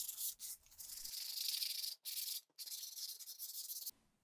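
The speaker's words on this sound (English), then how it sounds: "It's a good idea to give the track a good sanding" Steady abrasive sanding strokes on a wooden sliding-door track for a tambour door cabinet, a continuous gritty rasp with two brief pauses, close and fairly loud, no voices.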